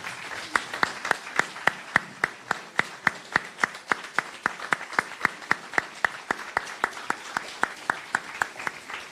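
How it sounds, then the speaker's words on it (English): Applause for the young people standing at the Atlanta NAACP 2023 Jubilee Celebration, distinct sharp claps in a steady rhythm from a modest crowd, moderately loud and close, continuing for several seconds without speech. "I want to give y'all a round of applause."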